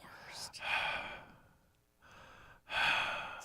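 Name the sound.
voice imitating heavy breathing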